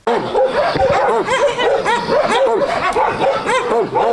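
Many dogs at an animal shelter bark and yelp continuously in a noisy, overlapping chorus, loud and close, with a few whimpers mixed in.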